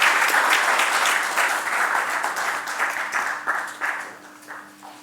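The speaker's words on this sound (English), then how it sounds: "Big applause for our speakers." Audience applause for the speakers closing a session of an intercultural conference, sustained clapping from a seated crowd that gradually thins and fades toward the end.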